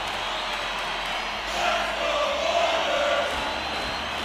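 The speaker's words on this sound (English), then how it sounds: "here's Oil Country coming out with the Let's Go Oilers chant after getting the tying goal late in the third" An Edmonton Oilers home crowd at a Stanley Cup playoff hockey game roars and chants after a late tying goal in the third period, a dense, loud, sustained arena din that swells slightly midway.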